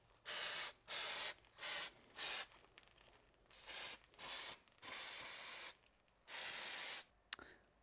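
Bursts of compressed air blown onto brake calipers during painting prep, a string of loud hissing blasts of varying length with short gaps between them, close by, no talking.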